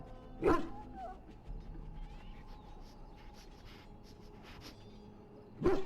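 A dog in the Dragon Age Origins video game gives two short barks, one early and one at the very end, with a quiet stretch of ambient background in between.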